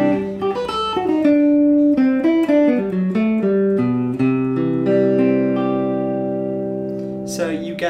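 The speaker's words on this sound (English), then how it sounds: "So if I'm using the rounded edge on my guitar, it'll sound like this." Guitar strings struck with the rounded edge of a thin pick, a melodic run of plucked notes ringing into sustained chords, warm and clear, with a brief scrape at the very end.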